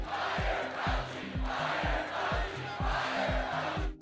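A rally crowd chants in unison, a loud rhythmic repeated chant of many voices with steady thumping beats, filling the space continuously.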